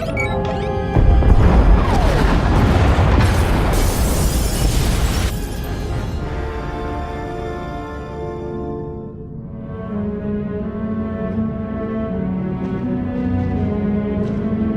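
Loud explosions and crashing debris tear through pod bays in a Star Wars video game, a heavy booming, shattering burst for several seconds that settles into a lower rumble with lingering tonal hum.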